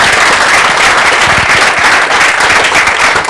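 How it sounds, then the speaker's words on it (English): An audience at a tech conference's lightning talks gives the presenters a loud round of applause, a dense, sustained crackle of many clapping hands that fills the whole stretch without pause. "So let's have one more round of applause."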